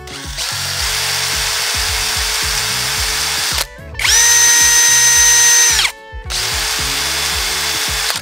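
An OSUKA OCHD 802 D2 cordless drill whirs loud and close in a long steady run, stops briefly, then spins again at a higher pitch before slowing back down.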